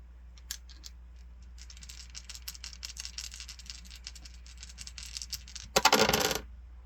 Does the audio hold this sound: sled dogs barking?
no